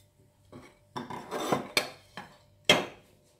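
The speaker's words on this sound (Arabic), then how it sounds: "هنا من بعد ما غربلت السكر الساقي نزيد السمسم هاد الحبيبات." Sesame seeds are added to sifted sugar in a dish, heard as a handful of quiet scrapes and clinks against the dish, several short bursts spaced irregularly with silence between them.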